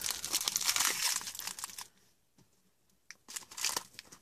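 Plastic piping bag filled with paint twisted and folded by hand, giving close, dense crinkling and rustling for nearly two seconds, a short pause, then another burst of crackly crumpling.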